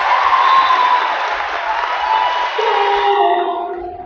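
Women's basketball crowd in a WNBL game between Victoria Wonders and Sydney Blues cheering loudly, a sustained roar with whoops and applause that thins toward the end as a few voices trail off.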